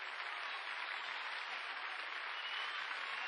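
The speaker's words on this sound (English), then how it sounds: "And there's tremendous applause for her in the main stand." A stadium crowd applauds a runner from the main stand, a steady, distant wash of clapping that holds evenly throughout without voices.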